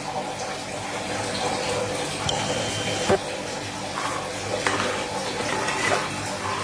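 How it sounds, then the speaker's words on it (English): Cold tap water runs steadily into a cooking pot to soak it in a home kitchen, a continuous splashing gush with occasional clinks and knocks. "the pot I use in cooking it, I'm soaking it with water, cold water."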